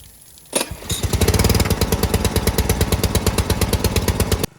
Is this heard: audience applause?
no